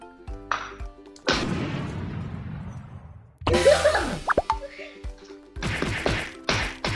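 Heavy pounding on food: loud thuds and crashing smacks in irregular bursts, some ringing briefly, close by and forceful.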